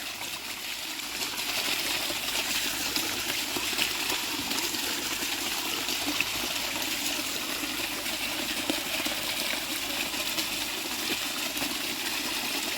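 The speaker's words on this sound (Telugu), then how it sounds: "మొక్కజొన్నకి మోటార్ వదిలింది" Continuous rushing gush of water pouring steadily from an irrigation pump into a maize field, a dense even hiss with a faint low motor hum beneath, no voices.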